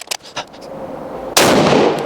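A single loud, close shot from a 7.62mm Lee-Enfield No.4 rifle in L8 Sterling conversion, a sharp blast that rings out after a few faint clicks and handling noises.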